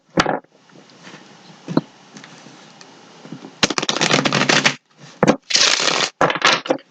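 A deck of tarot cards is shuffled up close in repeated riffling bursts, the crisp rustles and snaps separated by short pauses, with no talking.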